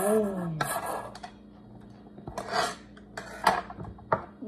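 Dishes, pots and cutlery clank and clatter up close as they are handled for washing, in sharp irregular knocks, with brief talk at the start.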